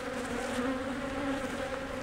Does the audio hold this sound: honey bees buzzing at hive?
yes